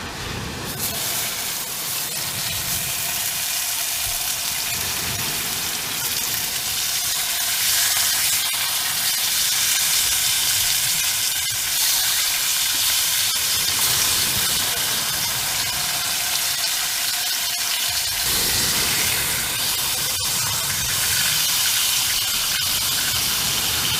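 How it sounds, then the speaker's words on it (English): Bacon fries in a pan at a night-time shore fishing camp in the UK, giving a loud, continuous hiss and spitting sizzle that holds steady for over twenty seconds with no talking. "So I'm going to cook some bacon for the lads"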